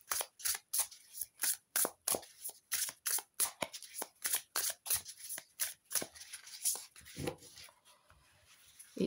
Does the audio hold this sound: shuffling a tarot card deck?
yes